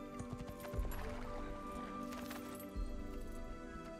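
A horse walks with steady clip-clop hooves in the Assassin's Creed video game, the hoofbeats moderately quiet under background game music and ambience.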